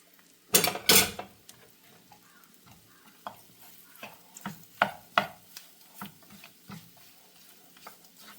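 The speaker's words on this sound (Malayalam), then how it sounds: "ഒരു 2 മിനിറ്റ് ഇളക്കിയതിന് ശേഷം നമുക്കിതിലേക്ക് വിനാഗിരി ചേർത്ത് കൊടുക്കാം." A spoon scrapes and stirs soya chunk pickle with chopped dates in a pan, beginning with two loud strokes and continuing as softer, irregular strokes with quiet pauses between them.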